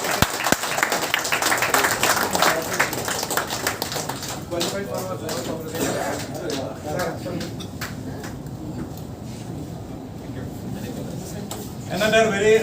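An audience claps at an office inauguration event in Guwahati, with dense applause at the start that thins into scattered claps as voices and talk take over.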